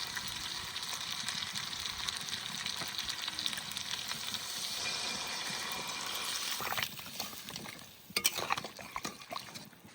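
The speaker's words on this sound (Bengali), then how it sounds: "এবার গরম জল দিয়ে দেবো" Duck meat cooking in a pot for a village-style duck curry with ash gourd hisses and sizzles loudly and continuously as hot water goes in, then the sizzle quiets into bubbling with a few sharp clatters near the end.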